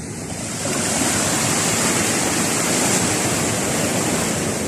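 Steady roar of open-sea surf heard from a small outrigger fishing boat, broad and continuous, close and loud throughout with no voices.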